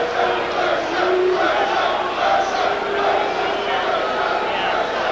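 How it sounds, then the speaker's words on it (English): A packed crowd in Atlantic City Convention Hall at a boxing match murmurs and roars restlessly while awaiting Riddick Bowe, a loud, continuous wash of many voices and shouts. "And the crowd getting a little bit restless"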